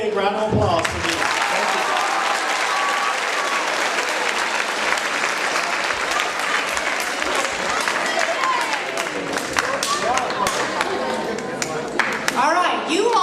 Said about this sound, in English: One more big round of applause for me.